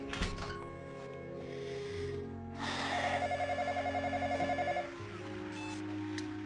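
A telephone rings indoors during a call, a fast warbling electronic ring lasting about two seconds at moderate level over a quiet room background.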